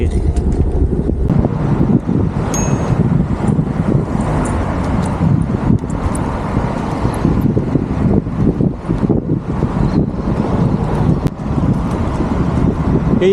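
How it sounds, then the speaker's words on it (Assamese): Cold, fresh wind buffets the microphone while cycling through Melbourne, a constant loud low roar with gusty fluctuations and faint traffic beneath it. "একদম ফ্ৰেছ বতাহ ঠাণ্ডা বতাহ"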